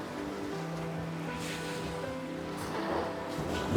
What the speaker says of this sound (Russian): Как подмывает корни вода